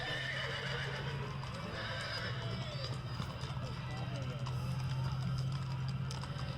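A horse whinnies amid a steady low hum and crowd chatter at a Christmas parade, with hooves clip-clopping nearby throughout.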